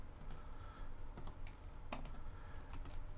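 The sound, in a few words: typing on a computer keyboard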